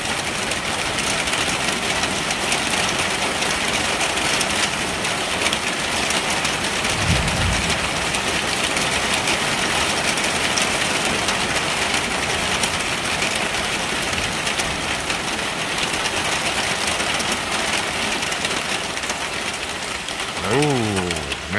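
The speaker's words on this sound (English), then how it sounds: "Listen to that rain coming down." Heavy rain pours steadily during a storm, a dense continuous hiss that stays loud throughout, with a low rumble briefly rising near the middle.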